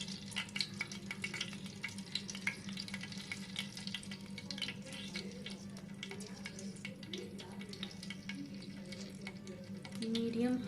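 Rice cheese balls fry in hot oil over medium-high heat with a quiet, steady sizzle and crackle, with occasional soft clinks and knocks of utensils in a home kitchen.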